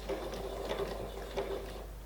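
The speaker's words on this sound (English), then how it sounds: "So sewing machine foot down, my foot back on the sewing machine pedal," A sewing machine stitches pieced fabric for improv quilt curves, its motor running as a steady mechanical whir with faint rhythmic clicks of the needle, close and continuous with no talking.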